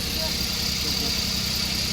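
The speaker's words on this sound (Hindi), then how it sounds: "रोहित की गाड़ी आ गई है ऊपर रोड से। यहाँ पर गाड़ी में बैठने लग गए" A car engine idles steadily at a roadside as people climb in, a low continuous rumble with a constant hum, close and unbroken.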